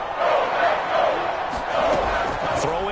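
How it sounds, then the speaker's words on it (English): Stadium crowd roaring in a PS4 football video game ahead of a big third down, a dense, steady wall of cheering that swells through the moment, with announcer-like voices faintly mixed in. "The crowd getting into it as we come up on a big third down."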